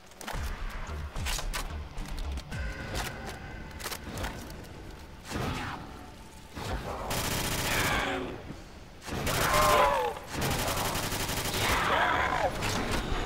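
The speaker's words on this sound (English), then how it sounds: "Time for the LMG burst." LMG bursts in Call of Duty custom zombies, rapid strings of gunfire fired in bursts with pauses between them, loud and close, with game effects and occasional talk mixed in.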